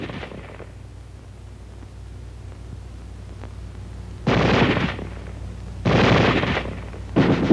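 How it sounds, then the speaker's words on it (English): Small arms firing on full automatic, loud sustained bursts of gunfire about a second long, separated by quieter pauses, close by. "Weapons giving automatic fire will fire continuously as long as pressure is applied to the trigger"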